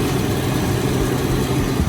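A BMW 760Li V12 with heavy oil leaks idles smoothly and steadily up close, a continuous even rumble with no talk over it.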